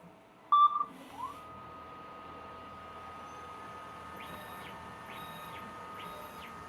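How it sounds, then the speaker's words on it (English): A shirt printer beeps once, a short, clear tone near the start, then runs with a steady mechanical hum and a series of repeated whirring passes as the print begins. "But see, it makes that beep sound."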